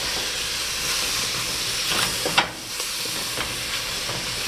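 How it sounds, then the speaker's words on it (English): Brown rice flour being stirred into sizzling mushrooms in a pan for a vegan, gluten-free gravy roux: a steady, loud frying hiss with soft scraping stir strokes and a brief clatter midway. "I'm gonna dump it in and then stir that up. And it's gonna make a nice little roux around our mushrooms."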